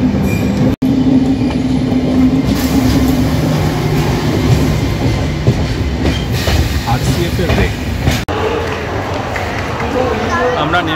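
The Yesvantpur–Howrah Duronto Express rolls into Howrah station with a steady rumble, wheel clatter and faint squeals heard from inside the carriage, with people talking throughout.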